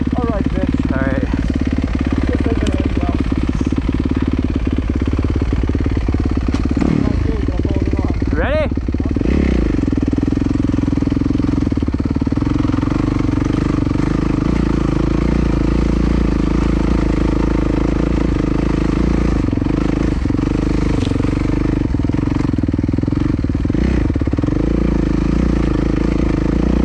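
A motorcycle engine runs continuously while being ridden, a loud steady drone with a rising rev near the start, close by throughout.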